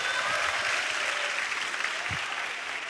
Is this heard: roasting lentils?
no